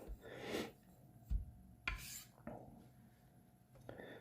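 A straight razor strokes across a fast Shiro Suita whetstone, giving faint, scattered scraping rasps with a few soft knocks in between.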